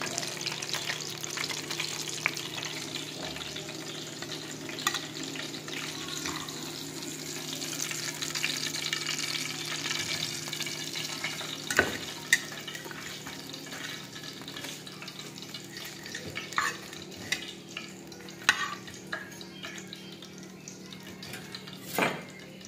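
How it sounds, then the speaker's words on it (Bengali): Fish frying in a pan amid kitchen sounds, with a steady sizzle under scattered clinks of utensils against cookware and occasional stirring, fairly quiet throughout. "ভাজা হয়ে গেছে।"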